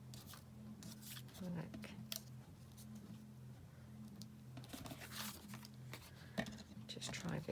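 Scissors cut through misprinted paper with a run of small, crisp snips, close and fairly quiet, under a steady low hum and occasional speech.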